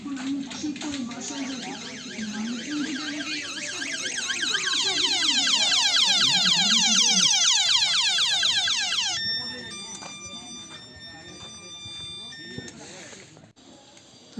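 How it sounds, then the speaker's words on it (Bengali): A newly fitted horn on a toto e-rickshaw gives a loud, warbling siren-like wail for about nine seconds, followed by short steady electronic tones, with someone speaking around it. "তো শুনতে পেলেন আপনারা, হর্নটা ঠিক আছে।"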